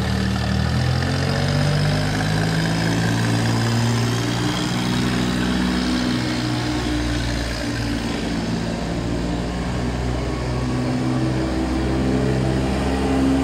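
The engine of an FL1000 articulated forklift idles continuously, a loud, close, steady low rumble that holds an even level throughout with no talk over it.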